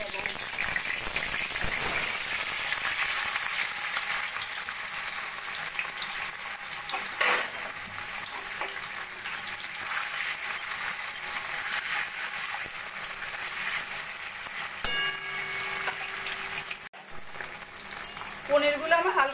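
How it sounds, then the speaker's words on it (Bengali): Paneer cubes fry in hot oil in a kadai wok, giving a steady, close crackling sizzle that runs throughout, with a few utensil clinks and stirring noises toward the end. "এবার আমি পনিরগুলো ভেজে নেব"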